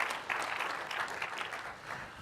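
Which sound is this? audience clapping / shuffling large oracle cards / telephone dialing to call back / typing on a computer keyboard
audience clapping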